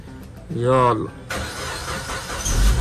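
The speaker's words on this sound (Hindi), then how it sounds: "वाह जी वाह पहले स्लब पे स्टार्ट हो चुकी है हमारी गाड़ी" A car engine cranks with a rising starter whine, then catches and settles into a steady running rumble after sitting unused for three days.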